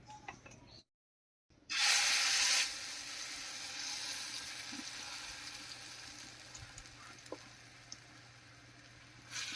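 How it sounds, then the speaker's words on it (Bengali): Pointed gourd and red lentil mixture hits hot mustard oil in a wok with a loud burst of sizzling, settling into a steady crackling fry that carries on alone with a few small pops and spatters. "তেল গরম হয়ে গেছে এবারে বানিয়ে রাখা পটল আর মুসুর ডালের মিশ্রণটা কড়াইতে দেব"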